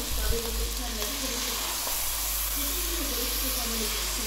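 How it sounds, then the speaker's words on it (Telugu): Washed chicken is stirred into a sizzling home-style curry base in a pan, with a steady loud frying hiss and occasional scraping stirs throughout. "చికెన్ మొత్తం యాడ్ చేశాక ఒకసారి ఇలా కలపండి."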